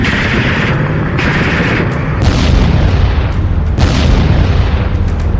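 Missile strikes on Donetsk at night produce heavy, loud booming blasts that roll and overlap, with sharp cracking impacts layered over a constant rumbling roar.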